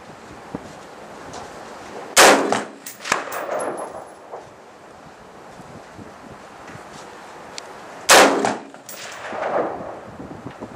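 Two sharp, loud gunshots at an outdoor shooting range, firing a Colt AR15 rifle, a Kahr P380 pistol or a Ruger Wiley Clapp revolver, spaced about six seconds apart, each with a brief echoing tail over steady wind noise.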